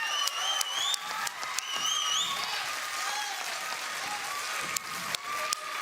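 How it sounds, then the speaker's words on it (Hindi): Audience applause for a music coach on a kids' TV talent show, a dense sustained wash of clapping while backing music with sliding tones plays underneath. "एक बार जोरदार तालियां हो जाएं"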